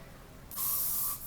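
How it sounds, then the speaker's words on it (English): Hairspray is sprayed onto loose curls in one steady, close hiss lasting about half a second, starting and stopping abruptly. "And then I take a little bit of hairspray"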